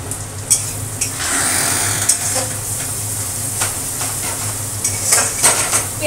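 Onions frying in a pan until brownish, a loud, steady sizzle close by with repeated scraping and clinking of a utensil stirring, no voices.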